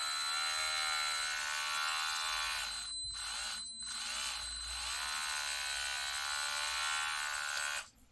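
A Parkside 4V cordless rotary tool runs at low speed with a steady high-pitched whine and hum, briefly dipping twice in the middle and cutting off near the end, no talking.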